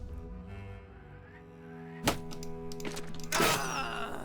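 Crossbow shot and reload in a medieval battle video game, with a sharp thunk of the bolt, then a faint click and a louder mechanical clatter of reloading over a low ambient hum.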